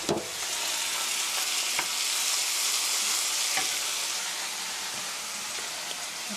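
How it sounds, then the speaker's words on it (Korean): Chopped tomatoes stir-frying in a hot pan, a steady bright sizzle with a few sharp clicks of the utensil, close and continuous without talk. "노릇노릇하게 맛있게 잘 볶아졌으면 여기에 썰어 놓은 토마토 넣어 주시고요"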